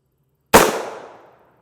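A single sharp subsonic rifle shot firing a 260 grain tungsten core bullet, abrupt and loud against silence, then a quick decaying tail.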